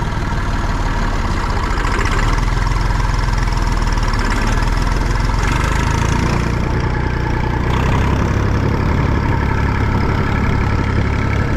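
A small red tractor engine runs steadily and loud in high second gear while rolling a field, a low mechanical drone that rises slightly in pitch partway through as it revs to about 1300 rpm.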